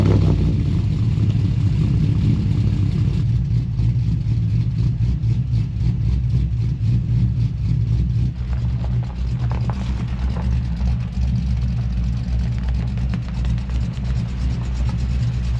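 Car engines idle and rev at close range as vehicles, including a truck, are shuffled around outside a garage ahead of work on a turbocharged Honda Civic, a steady low drone with occasional throttle swells.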